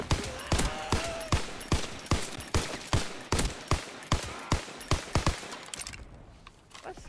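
A PPSh-41 submachine gun fires in a World War II video game as rapid, loud, continuous bursts of shots, trailing off at the end with no talking over it.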